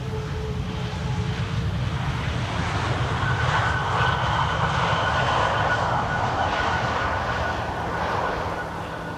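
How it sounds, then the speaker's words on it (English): Lufthansa Airbus A319 arriving from Frankfurt and landing on the Polderbaan runway 18R at Schiphol, a steady broadband jet roar with a faint engine whine, sustained and fairly loud throughout with no talk. "there is Lufthansa flight 988 arriving for Frankfurt, A319"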